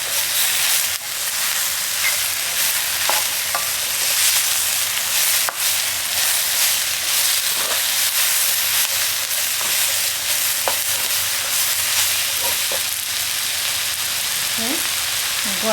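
Pea pods stir-frying in a hot pan for chicken and mushroom moo goo gai pan, a loud steady sizzle with occasional scrapes and clinks, close and continuous, with no talking.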